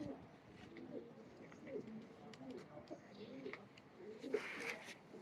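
A female kamagar pigeon, a teddy-type cross, coos softly in a loft. Low, gentle rounds of cooing repeat under a faint background, and a brief brighter flutter or chirp comes near the end.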